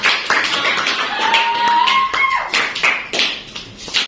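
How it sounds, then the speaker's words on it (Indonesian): A classroom group claps after a presentation: a few seconds of close, uneven hand claps with sharp individual slaps, and a faint voice sounds briefly partway through before the clapping thins out. "Tepuk tangan dulu untuk kelompok."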